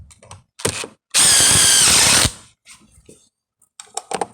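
A handheld power drill drives screws into a porch unit: a short knock, then one steady whirring burst of about a second, then scattered clicks and handling taps, close by with no talk.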